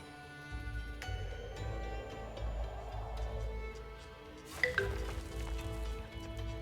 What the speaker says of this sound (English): Okay, that was a building upgrade, that sound.